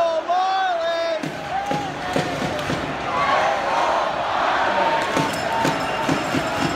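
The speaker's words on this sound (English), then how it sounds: "we walked outside. Everyone was cheering" An outdoor crowd cheering and shouting after the Toronto Marlies won the Calder Cup, a dense, sustained roar with whoops and yells, with a voice speaking near the start.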